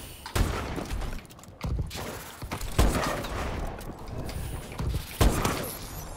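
Gunfire in an online first-person shooter match using a variable scope, with several sharp, loud shots spaced through the stretch over a steady bed of game noise and mechanical rattles.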